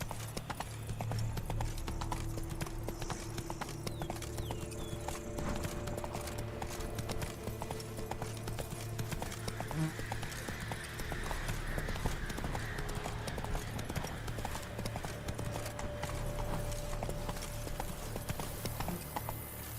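Horse hooves clip-clop at a steady gallop through The Witcher 3 game world, continuous and fairly loud over low ambient drone and game background sounds, with no talking.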